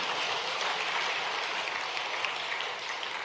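Audience at a political event in Bhopal, Madhya Pradesh, clapping steadily, a dense even patter of applause from a crowd held at moderate distance.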